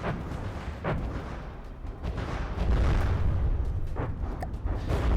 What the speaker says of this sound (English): Third bombing run.